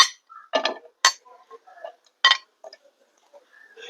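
A clay cooking pot for a Kerala-style Angamaly mango curry is set down, giving several short, sharp clanks and clinks spaced apart against an otherwise quiet kitchen.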